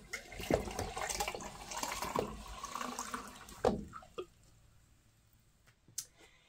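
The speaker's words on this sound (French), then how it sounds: "J'ai juste à actionner un peu la pompe comme ça. Puis l'eau coule vraiment bien." Water pumped by hand spurts and gushes in uneven bursts with a few squeaks and clicks of the pump handle, then trails off into near silence with scattered drips and knocks, in a home living without running water.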